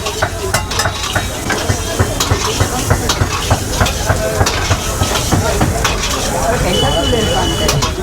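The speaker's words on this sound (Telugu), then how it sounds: "ఇక్కడైతే చికెన్ని ఫ్రై చేస్తూ ఉంటారు." Chicken fries at a street food stall in Kolkata's floating market, a loud, continuous sizzle with clattering stirring strokes over busy market bustle, and people talking nearby.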